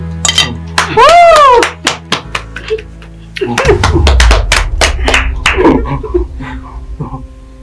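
A group claps at a family birthday. An excited vocal cry comes first, then a burst of sharp, quick hand claps rings out in the room at close range.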